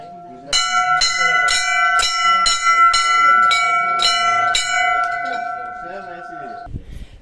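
Temple bell at the Gauri Somnath temple atop Mandhata (Om) mountain in Omkareshwar, struck about nine times in a steady rhythm, loud and close with bright ringing overtones, then a long fading hum before it cuts off.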